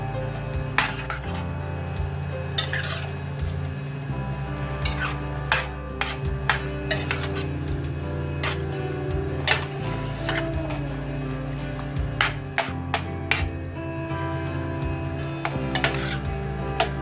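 A spoon stirs and clinks against a pot as butter is mixed into a simmering Jamaican brown stew fish sauce, with steady sizzling and repeated metallic taps of utensils, close by and without talk.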